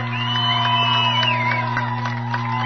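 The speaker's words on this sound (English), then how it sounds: "let's give Coach Pickler a big round of applause and a big cheer" A crowd at a college softball state championship game cheers and whoops for a coach, with scattered shouts over a steady hum and a sustained tone running underneath, moderately loud and continuous.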